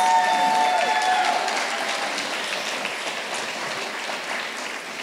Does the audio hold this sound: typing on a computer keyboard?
no